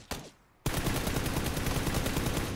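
Rapid automatic gunfire in a shooter video game, a short single shot followed by a brief pause, then a sustained loud burst of fast, evenly spaced shots continuing to the end.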